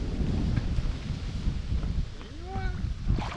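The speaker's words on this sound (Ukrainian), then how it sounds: "От тільки ми починаємо знімати, починається вітер." Gusty wind buffets the microphone outdoors while carp fishing, a steady low rumble with a brief rising whistle-like tone partway through.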